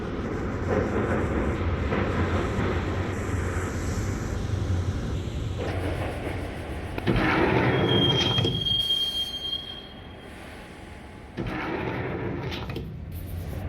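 A subway train in the PC game Max Payne rumbles along loudly with rattling wheels, then a thin metallic squeal rises briefly before the noise drops and returns.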